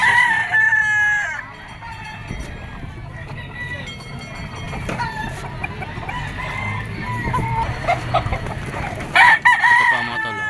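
A Gilmore Cross stag gamecock with black spurs crows at a poultry market in Padre Garcia, Batangas: two loud, close crows at the start and end, with steady crowd and farmyard noise in between.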